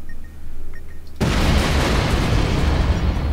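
A bomb goes off in Keep Talking and Nobody Explodes: after a quiet stretch of faint beeps, a sudden loud blast erupts and roars on in a dense, sustained rumble.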